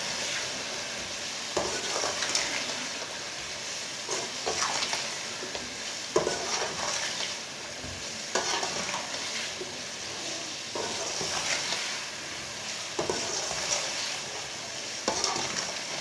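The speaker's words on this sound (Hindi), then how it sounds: "अब इसे 5 मिनट के लिए भून लेंगे।" Whole cumin, spices and vegetables for matar pulao frying in a pot, a soft continuous sizzle broken by repeated stirring scrapes every couple of seconds.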